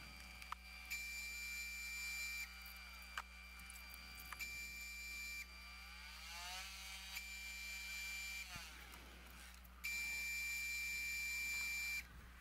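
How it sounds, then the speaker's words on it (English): Dyed star palm wood spinning on a lathe while being sanded, a steady mechanical whine with a strong low hum and sweeping tones, rising in several loud stretches with short gaps between passes. "And I'm going to sand off most of this color."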